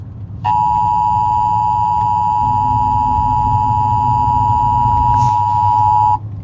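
An Emergency Alert System broadcast attention signal: one loud, steady electronic tone with a pure, piercing pitch. It holds unbroken for about six seconds, then cuts off, with a faint low hum underneath.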